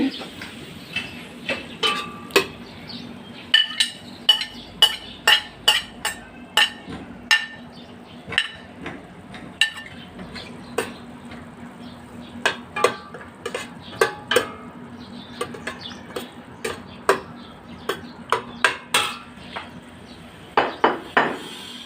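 Chopped bird's eye chili and potato go into a pan for a Bicolano-style ground pork dish, followed by steady, fairly close clinks and scrapes of a utensil against the pan that repeat every second or so.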